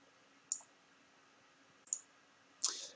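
Three crisp computer mouse clicks, quiet and close, spaced about a second and a half apart while an image is scaled in Microsoft Word; the last click is slightly longer with a brief rattle.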